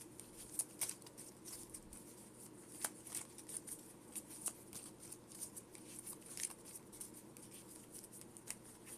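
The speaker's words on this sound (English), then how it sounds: "we're gonna have to shuffle this into our deck," Quiet, soft riffling and light tapping of Pokémon trading cards being shuffled into a deck, with intermittent crisp flicks spread across the stretch and no voices.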